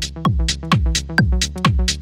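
Electronic track plays in full, with punchy kick drums, pitch-dropping bass hits, bright hi-hats and a short lead melody in a tight repeating groove, loud and close with no talking.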